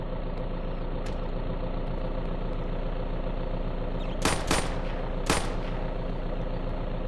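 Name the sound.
gunshots in the video game VEIN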